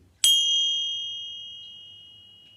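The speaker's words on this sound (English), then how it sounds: "they can't hear the vibration of the bell anymore" A single bright chime strikes once and rings out clearly, its pure tone slowly fading over a couple of seconds in near silence.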